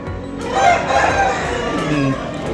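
A rooster crows loudly and close by, one drawn-out call over a busy market background with faint voices and other birds.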